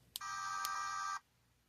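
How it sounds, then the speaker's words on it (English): A Mercedes-Maybach V680 van alarm triggered from the key fob emits a single steady electronic tone lasting about a second, fairly faint and heard alone, cutting off abruptly. "So I'm pressing this alarm key"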